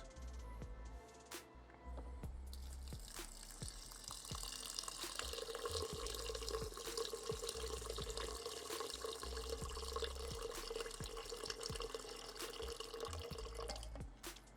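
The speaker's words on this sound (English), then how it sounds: "now we're gonna add water up to the 4 water mark" Water is poured into a rice cooker pot over washed long-grain rice, a steady close trickle and splash that runs for several seconds with a few drips, and no voices.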